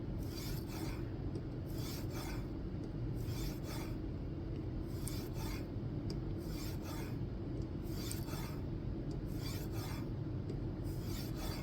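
Knife blade sharpened on a 3000 grit whetstone, with rhythmic rasping strokes in a steady back-and-forth pattern of about a dozen passes, close and clear with no voices.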